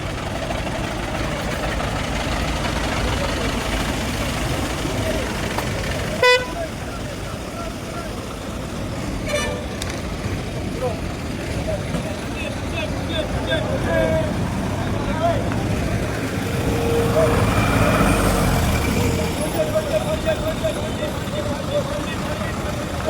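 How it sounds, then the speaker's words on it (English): Crowded bus station on the way to Agra, with bus engines idling in a low rumble and a short sharp horn blast, while a person talks over the din and other voices carry through. "it's so crowded in here and so many buses around here"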